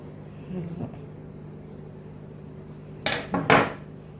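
Two short scraping, clinking bursts near the end, like a knife cutting through a soft eggless semolina sponge cake onto a plate, after a quiet stretch.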